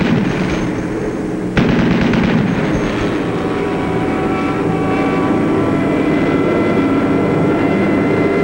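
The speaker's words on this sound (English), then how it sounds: "In desperation, through his own flak, the final Hun fighter makes a pass at the low squadron" A German fighter plane makes a pass at a low bomber squadron through anti-aircraft flak, heard as a loud, continuous aircraft engine roar with bursts of rapid gunfire and a sharp crack near the start.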